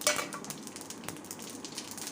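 Cumin and mustard seeds crackle in hot oil in a pan, a close, continuous sizzle with scattered pops and a few light utensil taps and no speech.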